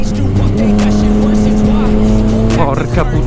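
Yamaha MT-09 motorcycle braking hard with a loud sustained tire squeal and engine noise, close and continuous for a few seconds, while a rider's voice shouts over it.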